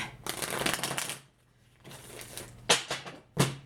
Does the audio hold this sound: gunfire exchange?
no